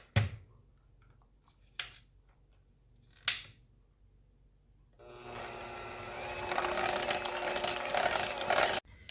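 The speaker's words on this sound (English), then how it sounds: "I'm going to do that with my mixer because I want it to be very smooth." An electric hand mixer whirs loudly through cream cheese, sour cream and mayo for the last few seconds, after three sharp clacks of the beaters being set and adjusted.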